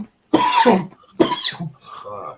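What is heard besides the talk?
cough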